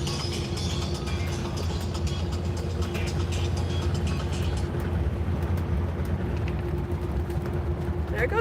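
A motorhome towing a small Fiat car rolls past on a highway, a steady broad road rumble and engine drone lasting several seconds, heard close and continuous.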